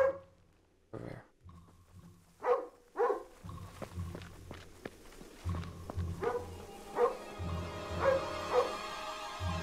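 A dog in the video game Lost barks in short, scattered yips and woofs at moderate distance, mixed with footstep-like thumps and game ambience.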